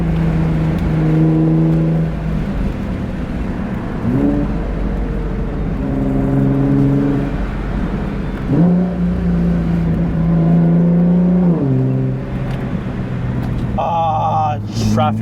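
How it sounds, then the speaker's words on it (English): Nissan GT-R R35 fitted with an HKS Legamax exhaust, its engine rising and falling through several rev swells with gear changes, loud and close, heard from inside during a drive. "I still feel like you gotta really hear that exhaust in person."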